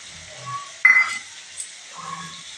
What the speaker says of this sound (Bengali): এরপর এর মধ্যে দিয়ে দিচ্ছি ছোট ছোট করে কাটা টমেটো কুচি